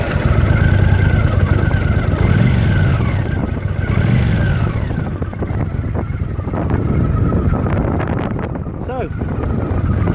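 A turbocharged 1983 Honda CX650 Turbo motorcycle engine runs at a steady fast idle close by, a continuous low rumble with some wind buffeting and a brief higher whine near the end.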